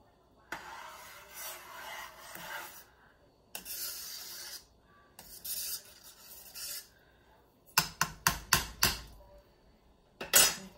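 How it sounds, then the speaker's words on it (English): A spoon scrapes and rubs around a pot of roasted tomato soup in several separate strokes with short pauses, followed by a quick run of light metallic clinks against the pot's rim. "let's stir this up"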